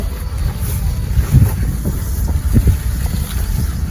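Strong wind sweeps across open rice paddies and buffets the microphone with a constant loud, low rumble and gusty roar. Faint flutters and knocks come through underneath, and no one speaks.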